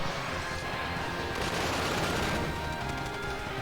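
Bursts of video game gunfire hammer in rapid succession while a spear blocks the incoming bullets. The shots crackle densely and loudly with no talk over them.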